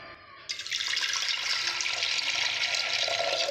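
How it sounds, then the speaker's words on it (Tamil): Water streams into a pressure cooker holding soaked dal, a steady splashing pour that begins abruptly and continues close and even for a few seconds. "இது மூழ்கிற அளவுக்கு தண்ணி ஊற்றிடலாம்."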